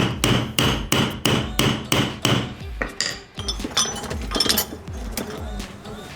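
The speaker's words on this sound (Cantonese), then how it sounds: "咁我哋下一步咧會用到呢個工具叫 ring bender 去將條金條壓成圈嘅形狀嘅。" A goldsmith's ring bender works a gold bar into a ring shape, giving a run of sharp, evenly spaced metallic knocks that turn into looser, irregular clinks and taps.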